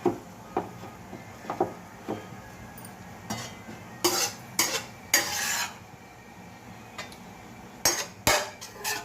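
Tomatoes being crushed and mashed by hand for a tomato and red chilli chutney, giving scattered soft squishes, taps and scraping knocks at an uneven pace, close up with no talking.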